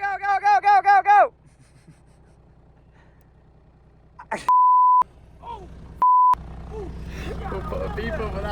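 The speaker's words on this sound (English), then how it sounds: "We'll put a beep over that" Two steady censor beep tones, each about half a second, cut loudly over a swear word on a farm, preceded by a quick burst of repeated rhythmic calls and followed by people talking.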